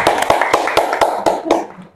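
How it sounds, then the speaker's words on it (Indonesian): Classmates in a school classroom give a short round of applause, eight sharp evenly spaced claps from several hands, fairly close and fading out at the end. "Oke, tepuk tangan untuk teman kalian."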